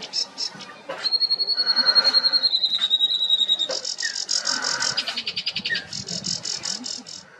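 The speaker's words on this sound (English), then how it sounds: "right in front of the hide there was a very loud sedge warbler" A sedge warbler sings loudly and close by, pouring out rapid chattering trills and buzzy repeated phrases mixed with a long sustained whistle, with no one talking.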